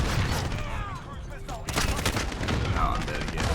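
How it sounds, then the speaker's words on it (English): Dense bursts of rapid gunfire from a Call of Duty match, loud and continuous, with a voice talking over the shooting. "This dude is literally just shooting me as soon as I'm up."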